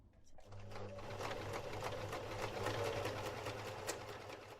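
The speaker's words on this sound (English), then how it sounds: "Back to the sewing machine" A sewing machine stitching quilt block seams runs steadily, its needle clattering in a fast, even rhythm with a low motor hum throughout, close and fairly loud.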